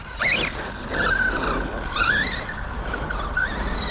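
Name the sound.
1/8 RC monster truck driving and jumping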